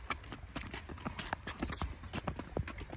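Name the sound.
horse hooves clip-clopping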